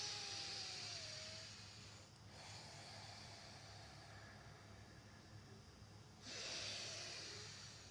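Slow, deliberate controlled breathing, quiet and close, with long airy breaths at the start and another rising near the end, no talk.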